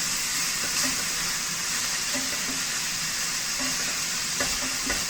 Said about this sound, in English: Get it all in the pot, get it cooking.